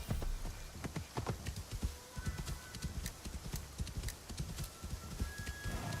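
Horse hooves clip-clopping in the video game Assassin's Creed Shadows, a steady rhythmic stream of sharp hoof strikes at a brisk gait, close and distinct with no talking over it.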